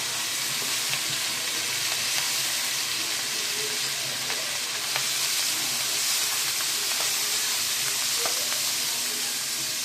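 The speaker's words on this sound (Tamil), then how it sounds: "நல்லா வதங்கட்டும்." Onions, coriander and spices sizzling as they sauté in a pan, a steady, loud frying hiss with faint stirring and no talk.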